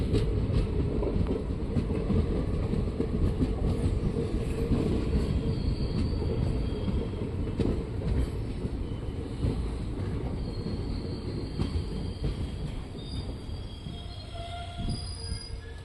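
An Indian Railways train running from Tirupati toward Bangalore, with a loud continuous rumble of wheels on track and recurring high squeals of the wheels throughout, with no voices.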